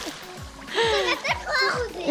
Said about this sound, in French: Il y a une dernière bombe à eau qui va arriver.